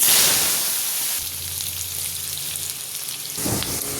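Washed, cut potatoes go into hot mustard oil in a kadai, tempered with dried chilli and cardamom, bursting into a loud hiss that settles into a steady sizzle, then flares briefly again near the end.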